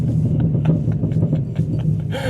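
A loud modified BMW E46 330ci engine rumbles and revs close by, its low drone rising and falling steadily throughout.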